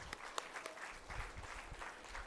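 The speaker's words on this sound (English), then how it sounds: "Please give them a big round of applause." Steady applause from an audience at a women doctors' conference, a dense wash of clapping sustained throughout with a few sharper individual claps standing out.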